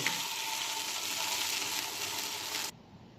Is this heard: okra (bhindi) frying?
yes